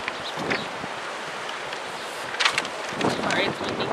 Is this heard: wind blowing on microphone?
yes